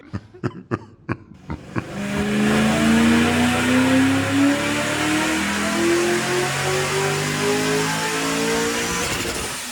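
An intercooled Mustang engine on a dyno roars steadily at high load for about eight seconds, its pitch slowly climbing through the run, after a few sharp knocks at the start.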